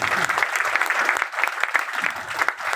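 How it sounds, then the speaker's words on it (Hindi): Loud, dense applause from a business seminar audience in Bhopal, many hands clapping rapidly and continuously, with the intensity rising and dipping slightly. "जोरदार तालियां"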